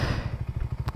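A Voge 300 Rally adventure motorcycle thumps steadily at close range, its single-cylinder engine pulsing in an even, throbbing beat, loud and alone.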